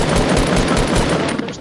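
Rapid automatic gunfire from a squad shooter video game, a dense loud fusillade of overlapping shots sustained throughout the short burst, no voices over it.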